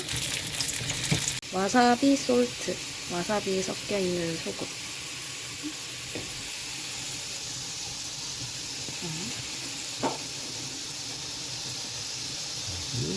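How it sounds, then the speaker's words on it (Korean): Tteokbokki rice cakes frying in oil in a pan, a steady close sizzle running throughout while a voice talks over the first few seconds. "튀기는 거 같이 바삭바삭해질 때까지 구워야 돼"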